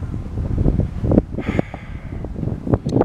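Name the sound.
wind blowing on a balcony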